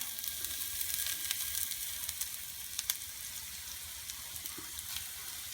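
Asafoetida crackles and sizzles in very hot oil for a green chili pickle, a steady hiss with scattered sharp pops, close and fairly quiet, no voices.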